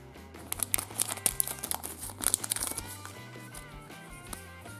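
A small black plastic packet is crinkled and torn open, giving bursts of crackly rustling over steady background music.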